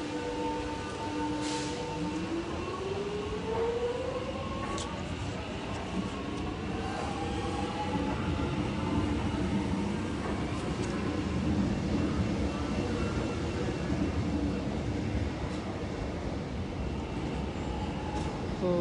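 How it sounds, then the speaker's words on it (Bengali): Trains rumble at Flinders Street station as a steady wash of rail noise and platform din, with brief squealing tones rising over the continuous rolling background. "দেখতে পাচ্ছেন প্রত্যেকটা ট্রেন টাইমলি চলে আসছে"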